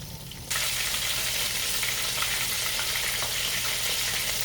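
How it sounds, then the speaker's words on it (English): Buttermilk-marinated chicken frying in hot oil gives a steady, dense crackling sizzle that rises sharply after a brief quieter start and stays loud and continuous, with no talking. "Look at our chicken frying up."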